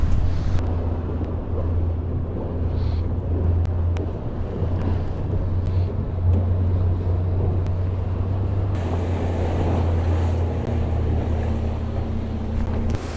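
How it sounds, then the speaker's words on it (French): Steady, heavy wind at sea aboard a Mini Transat racing sailboat buffeting the microphone over a low engine rumble, with a continuous roar and no voices throughout. "il y a beaucoup de vent"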